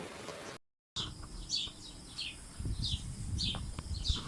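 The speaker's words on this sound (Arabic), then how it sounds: "هم تحبون صوت العصافير؟ سمعوا." Small birds chirp outdoors in a short, repeated rhythm of bright tweets over a soft rustling background, moderately near, with no talking.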